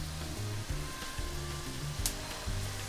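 A roast beef sears in a very hot pan with a soft, continuous sizzle, quiet and fairly distant, under a low background tone of repeating steady notes with no speech.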